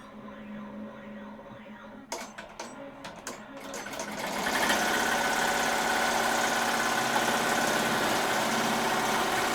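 An embroidery machine stitching a rhinestone design on a t-shirt with tearaway backing starts up after a few clicks and then settles into a loud, steady mechanical whir with a fast rhythmic stitching pulse.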